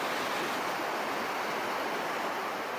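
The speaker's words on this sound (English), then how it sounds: "Hance is one of the rockiest rapids in the canyon." Hance Rapid on the Colorado River in the Grand Canyon, a loud, continuous roar of whitewater crashing over rocks, close and unbroken.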